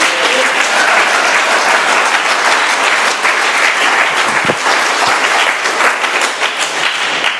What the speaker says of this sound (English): Let's have another round of applause for South Philly Pat.